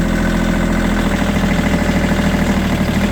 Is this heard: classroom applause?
no